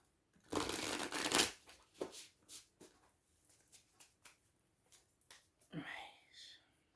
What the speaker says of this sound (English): So I always just shuffle and let the cards fall.